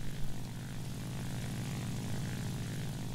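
Steady, droning propeller engine of a J2M3 Raiden fighter in War Thunder, a continuous drone with no gaps or pauses.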